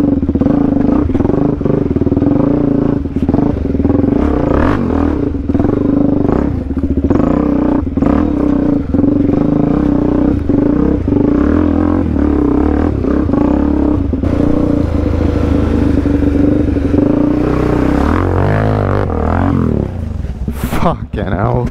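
A Suzuki DRZ400 dirt bike labours up a steep, rocky enduro trail on an Australia Day ride, its engine loud and close throughout, a continuous drone rising and falling in pitch amid rough clattering.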